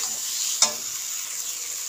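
Masala frying in a pan for a jackfruit and mutton fat dish, a continuous close sizzle broken by one sharp scrape or clack of the spoon partway through.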